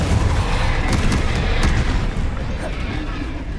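A Repulsor spell blast in Hogwarts Legacy goes off as a loud, sustained booming rumble with dense crackling spread across the whole range, holding steady for several seconds with no pause.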